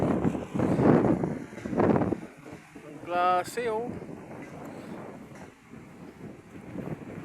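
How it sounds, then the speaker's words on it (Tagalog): Strong wind buffets the microphone with a steady roar and gusts, while people talk over it and a brief whistle-like tone cuts through. "Grabe, ang lakas ng hangin, oh."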